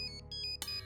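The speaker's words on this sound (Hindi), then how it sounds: "तो वही सिंह साहब का फोन आ रहा है" A telephone ringtone plays indoors in a household scene, a quiet repeating electronic melody with short pauses.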